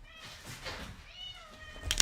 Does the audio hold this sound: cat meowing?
yes